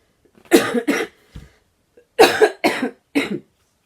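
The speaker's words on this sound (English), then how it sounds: "Coughing spell." A coughing fit: two harsh coughs, a short pause with a throat sound, then three more forceful coughs in quick succession, loud and close.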